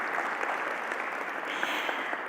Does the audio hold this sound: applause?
yes